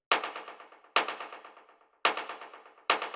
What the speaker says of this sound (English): So then the next thing I have here is this little rim shot